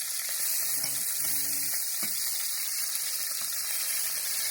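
Meat browning on all sides in a pan for a French choucroute, a loud, steady hissing sizzle throughout, with a few faint clicks and taps of turning.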